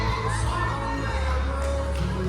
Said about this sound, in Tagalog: Crowd is cheering for Nexus.